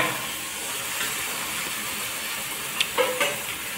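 Chicken pieces frying in hot spiced oil for a chicken curry, a steady hissing sizzle with a few sharper clatters and pops near the end.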